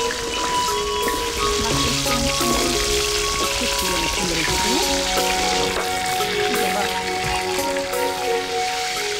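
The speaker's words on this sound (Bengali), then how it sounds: "এবার ভাজা হচ্ছে মাছ।" Fish frying in hot oil gives a loud, steady sizzle with bubbling crackle that runs unbroken from start to finish, close to the pan, in a traditional Bengali village kitchen.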